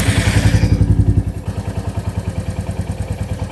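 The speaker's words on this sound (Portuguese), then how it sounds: "Eu vou ligar a moto e vamos ver se ela faz esse barulho." A motorcycle engine, due soon for its 500-kilometre service, starts and settles into a steady, close idle with an even rhythmic chug and light mechanical clatter, sounding alone.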